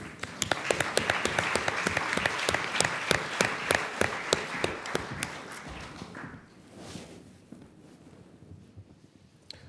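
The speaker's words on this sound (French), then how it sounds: "On les applaudit." Applause from an audience at an eloquence contest final, loud and rhythmic at first with sharp individual claps, then dying away into quiet room noise after about six seconds.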